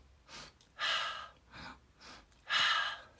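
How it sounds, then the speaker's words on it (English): Forceful breathing exercise with short, sharp breaths in and out, a few strong bursts of air close to the mic with quieter breaths between, no talking. "We're going to take a short in breath and then an out breath."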